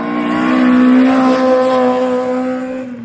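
A VW Golf Mk1 on the road up to Gorjanci pushes hard under acceleration, its engine and exhaust holding a loud, strained high-rev note that swells and then eases slightly as it passes.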